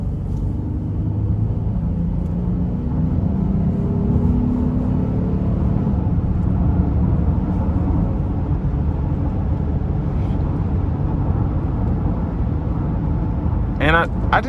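A 2017 Honda Ridgeline RTL pickup with about 118,000 miles pulls under throttle, its engine giving a steady low rumble heard from inside the cab, with road noise throughout.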